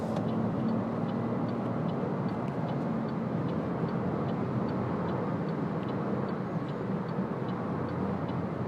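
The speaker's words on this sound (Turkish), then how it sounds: "şu an mesela motor sesi var hızlanırken. 3 silindirin sesi geliyor." A three-cylinder hybrid engine in a Citroen C3 Aircross pulls steadily while accelerating, a continuous low drone heard from inside the cabin with road and wind rumble and a faint repeating tick.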